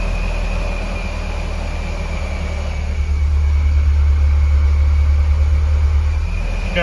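Supercharged Honda S2000 engine idling steadily while warming up, a close, even low hum that grows slightly fuller partway through, with a faint whine above it and no talking.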